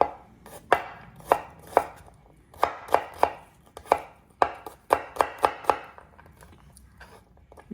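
Garlic cloves chopped with a knife on a cutting board, sharp crisp knocks in uneven bursts of quick strokes, close and clear with no talk.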